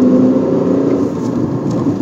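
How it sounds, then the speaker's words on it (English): Tata Punch three-cylinder engine revving on the move, a loud, steady mid-range drone with slight wavering in pitch, heard alone without talk. "the engine still remains pretty refined for a 3-cylinder"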